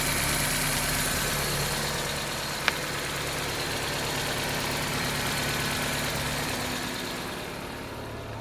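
A 1995 Geo Prizm engine idles steadily on its own, a constant low hum with no revving, plus a single brief click partway through.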